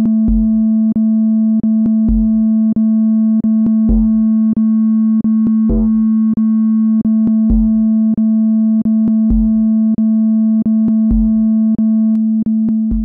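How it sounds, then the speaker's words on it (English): A steady sine tone with a buzzy waveshaper distortion edge runs continuously, punctuated by regular clicks and short low thumps about once per second. "It's easy to hear how they affect the material using this sine wave."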